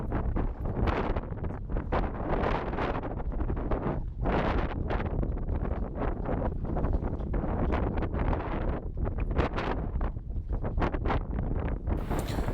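Strong wind buffets a sailboat entering the marina at Kelp on the Mediterranean, a loud, continuous roar of gusts and microphone rumble with no pause.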